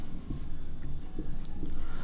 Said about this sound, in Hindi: इसको लिखेंगे